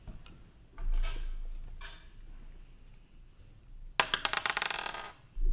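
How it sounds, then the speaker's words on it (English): Dice drop and clatter across a table during a tabletop Dungeons & Dragons game: a few scattered taps, then a rapid burst of small hard clicks as they bounce and settle, fairly quiet and close. "And I drop my dice."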